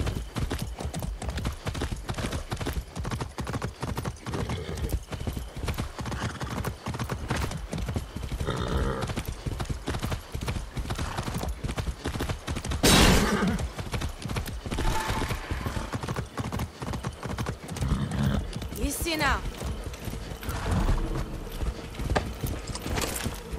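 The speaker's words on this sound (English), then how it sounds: "That's a good horse." A horse in the Far Cry 6 video game clip-clops steadily in a quick, rhythmic gait close by, with a sharp whinny near the middle, more whinnying later, and occasional speech over the hoofbeats.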